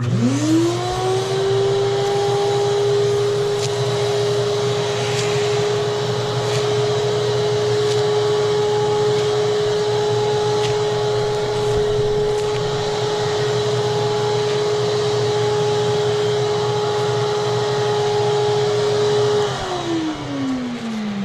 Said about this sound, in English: I'll show you real quick what it looks like when the vacuum's on and you're starting to press the foam down